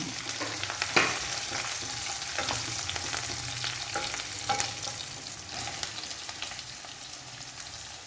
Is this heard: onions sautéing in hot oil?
yes